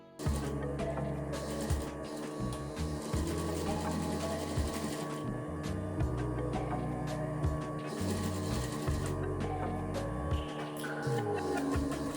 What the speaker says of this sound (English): We are going to start sewing from this corner of the shoulder right around to the other shoulder.